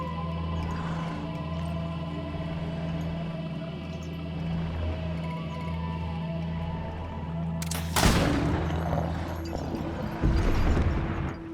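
A steady electronic hum and game ambience, then a sharp loud shot cracks out near the end, with a second burst of noise shortly after, in the video game GreedFall.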